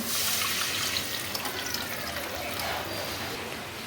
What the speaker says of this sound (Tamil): அலசி தண்ணி ஊற்றிக்கலாம்